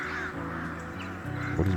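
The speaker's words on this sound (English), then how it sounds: "The birds are having a field day." Crows cawing in the video game Expeditions, several harsh overlapping caws over a low game ambience and music bed, moderate level across a short stretch.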